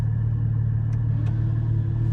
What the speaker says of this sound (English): You can open it up, obviously with the active exhaust here